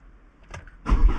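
A camper van engine starts after a quiet moment: faint clicks and a brief crank, then the motor catches and settles into a louder, steady run nearby.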